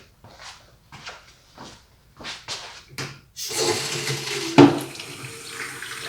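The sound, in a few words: water running from a garden hose sink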